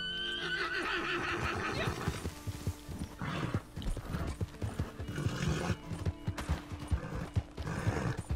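In the video game Red Dead Redemption 2, a horse whinnies loudly near the start, then hooves clip-clop in a brisk, uneven gallop with clattering thuds, close and prominent, without talk.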